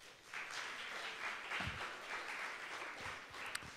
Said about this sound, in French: première personne à remercier, c'est vous, le public, on peut se donner un meilleur applaudissement.